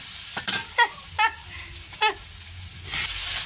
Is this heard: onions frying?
yes